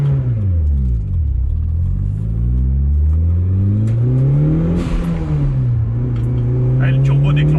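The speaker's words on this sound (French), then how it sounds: "Ah, le turbo déclenche très tôt, hein." A Mitsubishi Lancer Evo 9 engine revs up hard from inside the car, its note climbing, dipping on a gear change and rising again with turbo whine and whoosh as boost arrives early, loud and continuous with voices talking underneath.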